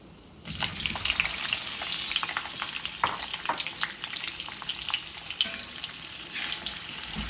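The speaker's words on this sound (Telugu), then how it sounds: "ఫ్రై అయిన వెంటనే ఇప్పుడు మనం ఈ బంగాళదుంపలు అనేది ఇందులో వేసేసుకుంటాం" Baby potatoes tipped into hot oil with fried curry leaves, likely in an iron kadai, setting off a sudden loud, steady crackling sizzle that continues with small stirring taps and no voices.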